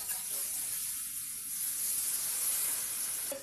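Water poured onto oil-fried spice masala in a pan while cooking kochu shak, a loud continuous sizzling hiss held steady throughout.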